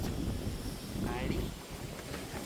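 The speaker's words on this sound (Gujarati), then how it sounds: "પવન તો જો જોરદાર આવે" Strong wind blows outdoors in rainy weather as a dense, continuous rushing rumble over the microphone, loud throughout, with a voice briefly speaking partway under it.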